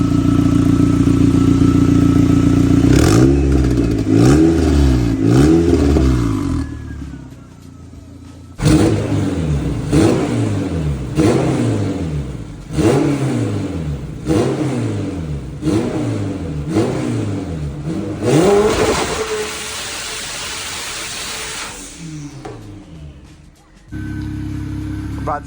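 Toyota MR2 with a swapped Honda K-series engine, an old beater taken on its first drive around the block, revving loudly through repeated rising and falling pulls with gear changes, close and steady over about twenty-five seconds.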